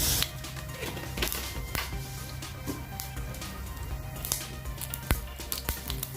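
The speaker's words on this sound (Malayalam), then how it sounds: "കടുക് പൊട്ടുന്നുണ്ട്." Mustard seeds pop in hot oil for a fish curry tempering, with scattered sharp crackles and small bursts, some louder than others, over a low steady hum.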